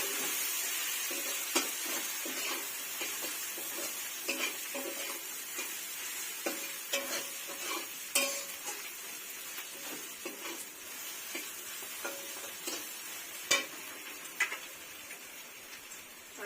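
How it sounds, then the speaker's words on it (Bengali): Rice being stirred and fried in a pan for fish-head pulao, giving a steady soft sizzle with scattered scraping and clinking stirs throughout, moderately close and with no talk. "তারপর এটা ভালো করে আমি নাড়াচাড়া করে ভালো করে ভাজিয়ে নিয়ে"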